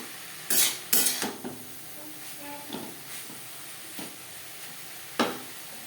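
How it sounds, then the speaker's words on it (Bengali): Yardlong beans, gourd peel and grated coconut being stir-fried in a wok over high-to-medium flame, soft background sizzle broken by a few sharp scraping stirs and clinks, fairly quiet and close. "হাই টু মিডিয়াম ফ্লেমে 3-4 মিনিট নারকেলের সাথে বরবটি ও লাউর খোসা নাড়াচাড়া করে দেবো।"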